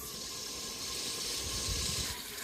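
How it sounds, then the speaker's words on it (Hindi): Water from a glass is poured into a cooking pot of fried spices for lentils, making a steady gushing, splashing pour that continues for a couple of seconds with no talking. "हुण मैं ऐड करसा 2 गिलास पानी"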